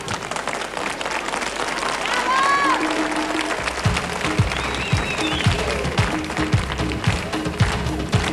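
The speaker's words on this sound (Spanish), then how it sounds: "¡Un aplauso para ellos!" A TV studio audience claps and cheers, then a rhythmic samba beat with percussion comes in partway through while the applause carries on beneath it.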